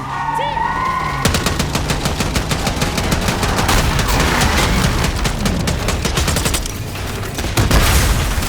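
Rapid automatic gunfire from a Call of Duty Black Ops 6 campaign mission, dense bursts of shots and booms filling the scene loudly for several seconds, with brief game voices at the start.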